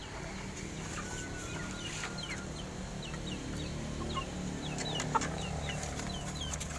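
Several Milsim hatch chickens clucking and chirping softly in short scattered calls over a steady low background hum, no voices.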